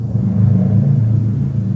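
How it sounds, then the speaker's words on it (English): A loud motorcycle passes outside, a heavy low engine rumble that swells and holds steady throughout, with no talk over it. "That's quite a motorcycle."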